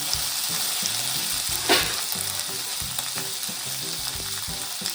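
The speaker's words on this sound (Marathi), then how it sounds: "आता हे सर्व आपण फ्राय करून घेऊ।" Green peas and curry leaves fry in a pan, giving a dense continuous sizzle broken by regular stirring scrapes, close and loud, with no voices.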